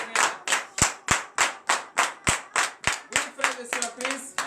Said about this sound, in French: donne-lui une vive acclamation ce matin